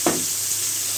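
Pieces of surma fish frying in oil in a pan, a steady close hiss with a single brief scrape near the start.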